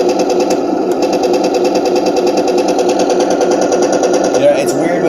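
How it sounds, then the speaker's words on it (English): A 1/16 Heng Long RC ZTZ99-A Chinese battle tank plays its machine gun sound effect, a rapid, steady mechanical rattle that runs loudly and continuously while a person talks over it. "The machine gun sound is up on the upper left on this particular tank."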